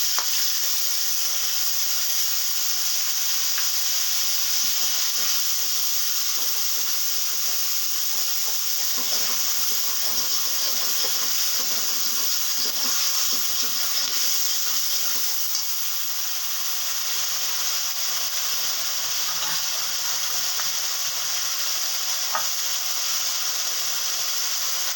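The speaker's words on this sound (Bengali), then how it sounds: "এবারে দিয়ে দিচ্ছি পেঁয়াজের পেস্ট।" Onion paste frying in a pan, giving a steady, continuous sizzle with a bright hiss that holds for the whole stretch, close and fairly loud with no talking.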